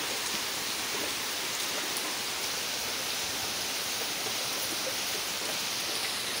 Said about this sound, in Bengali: আবার মুষলধারে বৃষ্টি শুরু হয়ে গেছে, প্রচুর বৃষ্টি হচ্ছে